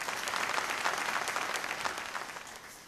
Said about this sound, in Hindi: मैं चाहूँगी ज़रा ज़ोरदार तालियां हो जाए इनके लिए